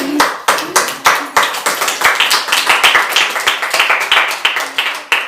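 A church congregation claps loudly for the Lord during a sermon, sharp individual claps forming a brisk, rhythmic run of applause close by, with a faint voice now and then underneath.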